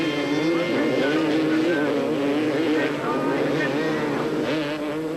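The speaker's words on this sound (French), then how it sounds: "Michele Fantone mène grand train sur sa Suzuki" Several 250cc motocross motorcycles race on a fast French circuit with a Suzuki leading, engines whining steadily and loudly throughout, with a commentator talking over the racing.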